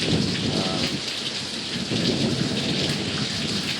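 Heavy monsoon rain pours down late at night with thunder, a dense, steady roar of rain beating on surfaces throughout, close and loud, with no one talking.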